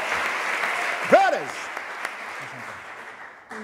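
A church congregation applauding during a worship service, with steady close clapping that slowly tapers off. A voice shouts a short call partway through.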